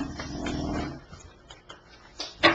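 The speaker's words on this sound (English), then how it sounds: "My dog is snoring, sorry." A dog snoring indoors during a recorded reading session, heard as soft, low rumbling breaths that rise and fade, fairly faint and close, ending with a sharper snort-like sound.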